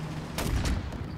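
A Valentine Mk.I tank's gun fires in War Thunder, one sharp loud blast followed by a brief second crack, heard over a steady engine rumble with no speech.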